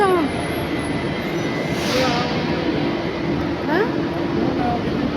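A Delhi metro train at Supreme Court station makes a steady, loud rumble with brief rising squeals from wheels or brakes, while faint voices murmur beneath.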